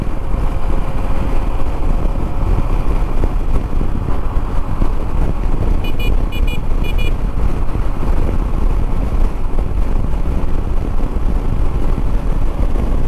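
Shineray SHI 175 motorcycle ridden at night at around 100 km/h with an engine still being broken in, a loud continuous engine drone buried in heavy wind rush, with a brief high beeping partway through.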